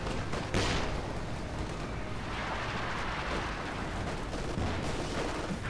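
Tank fire in a Company of Heroes 2 battle: a steady, fairly faint roar of distant artillery-like blasts and rumbling gunfire, with a sharper report early on and a steady din throughout.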